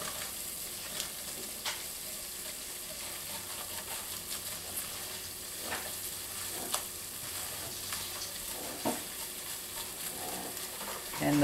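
Chicken and vegetables for chicken and dumplings brown in a pot, giving a quiet, steady sizzle and crackle with occasional sharper pops and a light stir, no voices.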